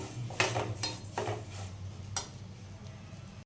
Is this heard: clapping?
no